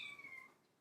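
A house cat lets out a single short meow that falls slightly in pitch, fairly faint and alone with no talking.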